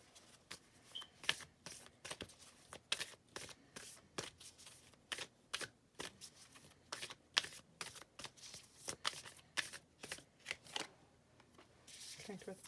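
Tarot cards being shuffled by hand, giving a steady run of crisp riffling and flicking that sounds close and fairly quiet.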